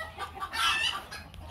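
A rare hookbill duck gives a short, raspy quack-like call, a single brief burst close by at low volume, with no talking over it.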